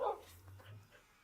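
Dogs in the video game ScratchCraft give a short burst of barking and yipping, fairly close at the start and then fading into low background hum.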